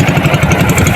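A 20 horsepower outboard engine on a newly bought boat runs steadily close by, a loud, even, pulsing drone with no pauses for its brief span.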